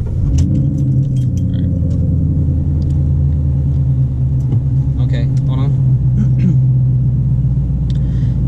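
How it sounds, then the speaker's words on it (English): A manual-transmission car's engine idles in neutral with a steady low rumble, with keys jingling and a few clicks near the start, and people talking over it. "So turn on the car."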